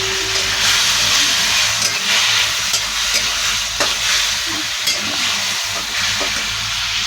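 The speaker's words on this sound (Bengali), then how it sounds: "তেল ছেড়ে হলেই মাছটা দিয়ে দিই।" Fish frying in hot oil for a light curry: a dense, loud sizzling hiss running steadily throughout, with occasional faint crackles and no voices.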